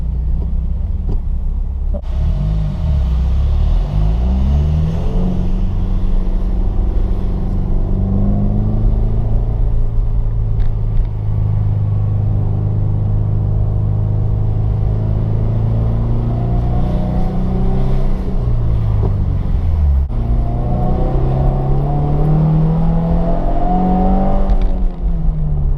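Manual-transmission car coasting off the throttle with the clutch still engaged, its engine braking as RPMs slowly wind down in a steady, loud drone that falls in pitch, then rises again as power returns near the end.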